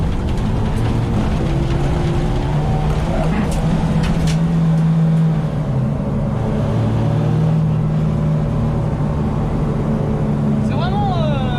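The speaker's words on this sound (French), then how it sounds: "Donc là t'entends l'échappement qui détonne." Renault 20 Dakar replica sliding on grass, its engine droning steadily with scattered sharp exhaust pops and crackles, a voice talking over the noise throughout.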